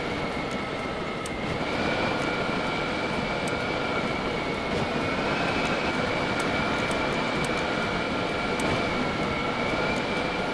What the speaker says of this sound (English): There is this second thruster which you can use.